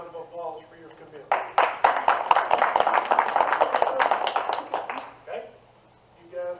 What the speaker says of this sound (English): One more round of applause for your commitment.